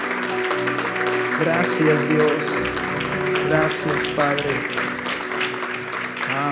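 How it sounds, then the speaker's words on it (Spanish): A church congregation applauds at a nighttime evangelical service, steady clapping filling the room while voices call out thanks over it and tones ring underneath. "Dile un aplauso a Jesucristo en esta noche."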